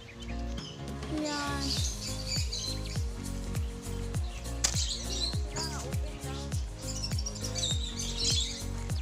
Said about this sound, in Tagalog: Ang ganda ng huni ng ibon.